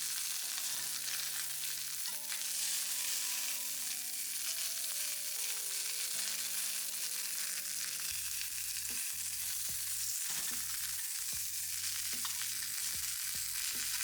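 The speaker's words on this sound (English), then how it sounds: "Cook until deep golden brown and then turn over." Cauliflower steaks fry in a pan with a continuous bright sizzle, heard under soft background music throughout.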